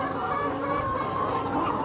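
Layer hens of the Sebastar cross breed clucking steadily in a poultry house, a dense continuous flock murmur with overlapping soft calls throughout, no single bird standing out.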